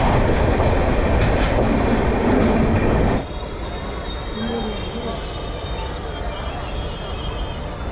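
The Tamralipta Express passenger train runs between Howrah and Digha with a loud, steady roar of wheels and rail noise, close up, easing slightly partway through.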